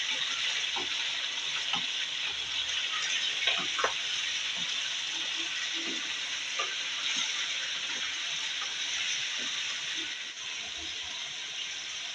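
Chicken frying in hot oil for a Lahori-style karahi, a constant bright sizzle and hiss running throughout with occasional small pops and stirring scrapes, close and loud, with no talking.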